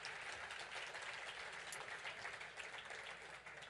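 A crowd at a New Hampshire GOP event claps steadily and evenly throughout, a dense wash of applause that stays at an even level without pause.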